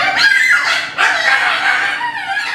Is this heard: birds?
yes